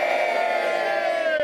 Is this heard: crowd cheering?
yes